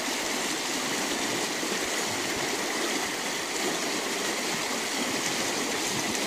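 Water from a stream pours steadily beneath an ice jam waterfall in snowy winter conditions, a continuous loud broadband rush with no pauses and no voices.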